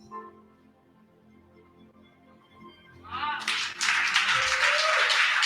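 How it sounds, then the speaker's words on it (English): Audience applause breaks out at a women's conference, rising abruptly from quiet speech into a loud, dense wash of clapping from a large crowd that holds steady to the end. "Let's give her another round of applause, ladies and gentlemen"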